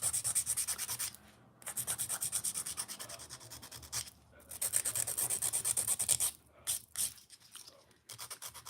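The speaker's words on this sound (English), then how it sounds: "You get some good scratches in the surface of your nail," A fingernail surface is roughed up with a file to remove gel polish. The close, rhythmic rasping comes in quick back-and-forth bursts separated by brief pauses, with no talking.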